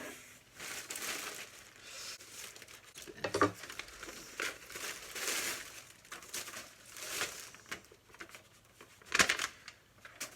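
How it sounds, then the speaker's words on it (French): Plastic packaging crinkles and rustles close by, punctuated by a couple of quick, sharp snips from scissors cutting it. "Je me munis de mes ciseaux."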